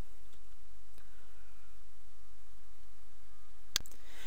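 A single sharp computer mouse click near the end, preceded by a fainter click earlier, over steady low room hum with no speech.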